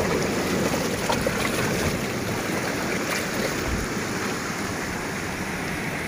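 Surf and wind roll steadily at Wediombo beach during light drizzle, a broad continuous wash of breaking waves with no talking.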